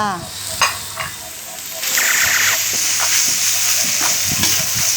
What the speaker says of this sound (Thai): ใส่หน่อไม้ดอง แล้วผัดให้คนให้เข้ากันค่ะ